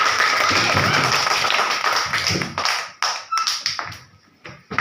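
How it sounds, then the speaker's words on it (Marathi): Schoolchildren clapping together at a village zilla parishad school. It starts as a dense burst of applause, then thins out into scattered individual claps that fade away. "आजोबा आलेले आपल्या शाळेत टाळ्या वाजा मुलांना"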